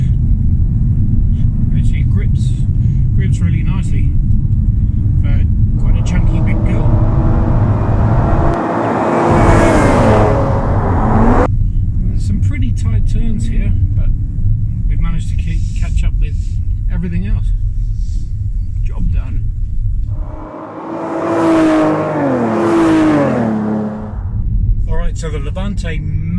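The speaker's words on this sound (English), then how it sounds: "Levante may have dropped a few bits of horsepower and a few bits of torque, but certainly hasn't dropped any of the sound." A 2019 Maserati Levante 350 on the road, its engine holding a steady loud rumble, with two rising bursts of higher engine note around the middle and near the end and talk in the cabin.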